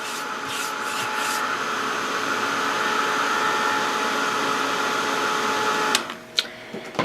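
A hair dryer blowing on painted cake decoration, a steady whirring hum with a whooshing airflow held for about six seconds before it cuts off, followed by a few faint clicks and handling sounds.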